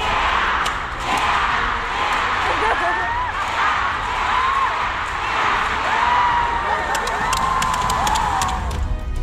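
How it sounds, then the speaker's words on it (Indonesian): Badminton supporters at Istora arena in Indonesia shout, cheer and whoop continuously as a dense, roaring crowd during the Indonesia Masters, with individual yells rising above the din. "Nih kalau kalian mau dengar langsung teriakannya."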